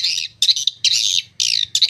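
Swiftlets chirp in rapid, shrill twittering bursts, four or five close bursts with short gaps over a faint low hum, like birds chasing and playing inside a swiftlet house.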